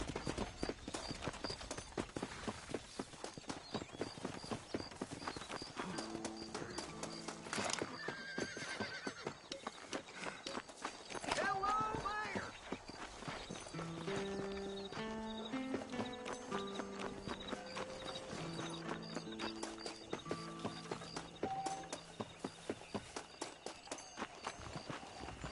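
Horse hooves clip-clopping at a steady trot with repeated neighs and whinnies, heard in Red Dead Redemption while riding, faint and distant, over a bed of background music with little speech.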